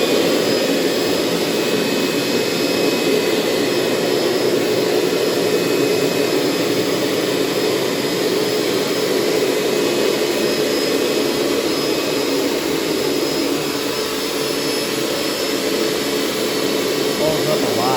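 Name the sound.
Hoover Steamvac Plus carpet cleaner shampooing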